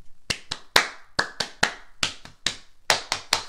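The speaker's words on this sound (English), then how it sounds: "I'll clap a pattern, and they have to pat" A single pair of hands claps a short rhythmic pattern in a kindergarten music lesson, about a dozen crisp, close claps in uneven groupings with brief gaps, alone with no talk.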